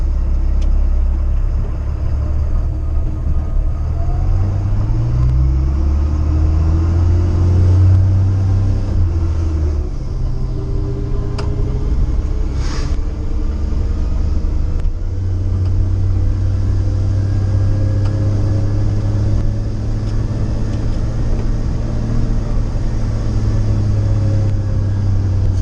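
An LMTV military truck with a CAT 3116 diesel engine drives along with a loud, steady low rumble, its engine note stepping down through a downshift, heard close and alone.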